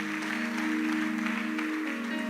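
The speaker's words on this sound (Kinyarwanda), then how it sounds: "Dukomere Imana amashyi tumwakire." A church congregation claps steadily to welcome a preacher, the dense applause running throughout with sustained keyboard-like tones beneath it.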